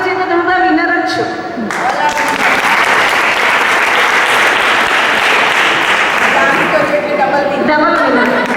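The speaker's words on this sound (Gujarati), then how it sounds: "તમારા માટે ખાસ તાળી પડો બધા" Audience applause at a women's foundation bhajan competition held at a public school in Vapi: sustained, loud clapping from a large crowd fills the whole stretch, with a voice speaking over it at the start and end.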